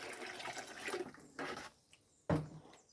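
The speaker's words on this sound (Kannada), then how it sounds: "ಶುದ್ಧವಾದ ನೀರನ್ನು ಹಾಕಿ" Clean water is poured into a plastic pot for growing a lotus plant, heard as a soft, uneven splashing and gurgling that swells in bursts and ends in a louder gush, quiet and close.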